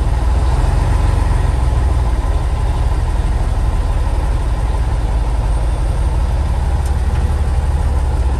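Scania 112 truck engine idling, a loud, steady low diesel rumble that stays constant throughout at close range with no talking.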